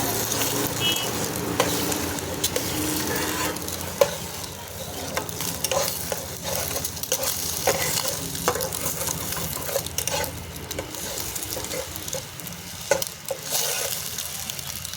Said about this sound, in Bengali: ডিমটা ভাজার জন্য আমি ডিমটা দিয়ে দিয়েছি, এখন আমি এটাকে ভেজে নেব।